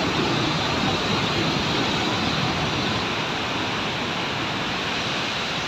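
Fast river water of the Indus rushing below Taunsa Barrage makes a loud, steady, broadband roar that stays unbroken and close throughout, with no voices.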